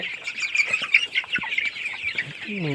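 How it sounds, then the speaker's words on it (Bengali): Young tiger chickens, about thirty days old, cluck and chirp steadily on a farm in Anwara, Chattogram, a busy flock chorus with scattered louder calls and a rooster-like cry at the end. "এই মুরগিগুলার বয়স আজকে তিরিশ দিন ওজন আসছে ও পাঁচশো গ্রাম"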